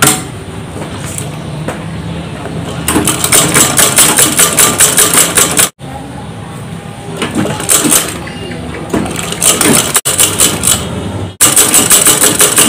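A sewing machine stitches an elastic skirt waistband near a zipper, running loud and close in steady rattling bursts with brief pauses between runs.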